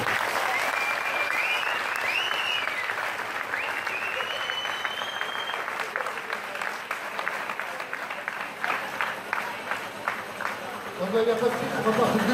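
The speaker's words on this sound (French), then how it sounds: "Allez, on les applaudit bien fort." Sustained applause from an audience at a school awards evening at a French lycée, steady clapping throughout with brief voices and cheering heard within it.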